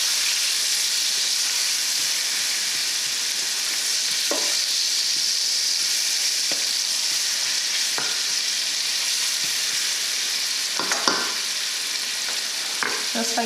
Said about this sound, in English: I always fry my onions with some white pepper. Just sprinkle it some white pepper. And give it a good stir.